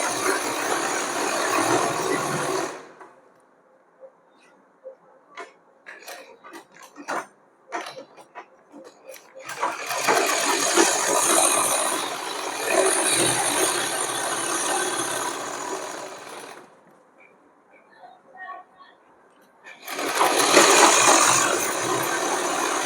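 A sewing machine runs in loud sustained bursts while stitching a cotton summer dress for a Laddu Gopal idol, with quieter clicking and handling sounds in the pauses between runs.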